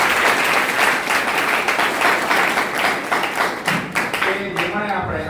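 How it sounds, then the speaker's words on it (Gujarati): An audience claps for a speaker at a Gujarati talk on India's glorious history, lively close applause that stays dense, then thins into scattered claps as a voice starts to speak. "ફરીથી એકવાર સર માટે ફરીથી આપણે તાળી પાડીએ"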